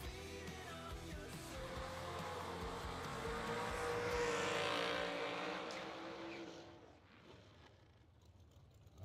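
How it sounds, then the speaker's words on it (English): Drag racing cars do burnouts at a Mini-Million event, a distant engine roar that swells into a broad, loud tire-smoking scream and then fades away as the cars pull off. "Couple of big burnouts there as we get back underway"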